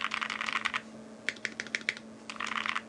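Close, crisp typing on a custom Xeno mechanical keyboard with a POM plate, coming in quick bursts of rapid keystrokes separated by a short pause, over a faint steady hum.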